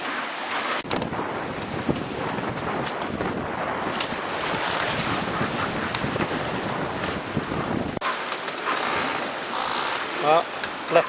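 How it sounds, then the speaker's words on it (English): Gale-force wind roars steadily around a Prout Quest 33 catamaran moored in a Lanzarote marina, with buffeting gusts, rattling rigging and slapping waves, all close and loud throughout. "Meantime, I'm sitting on the boat in the marina and it's blowing a gale outside and we're bouncing around like mad here."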